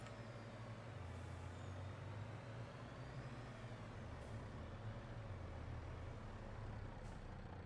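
A Mack grain truck from the grain transport pack in Farming Simulator 22 idles with a steady, low diesel rumble, even and unbroken, with a faint hiss rising briefly near the end.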